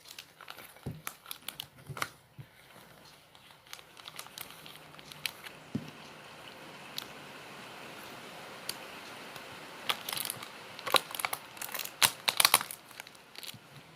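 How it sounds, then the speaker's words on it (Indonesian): Plastic sheet crinkling as it is wrapped over a respiration experiment container and tied with a rubber band, with scattered crackles and rustles that grow louder and denser toward the end, close by and without talk. "Kemudian kita tutup menggunakan plastik dan diikat dengan karet."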